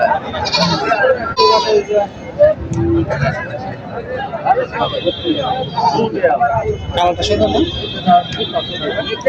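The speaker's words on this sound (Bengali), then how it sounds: "ছাগল তো মেলাই ওটা" Goats bleat repeatedly at a busy village goat market, close and loud, with several animals calling over one another while people talk and chatter throughout.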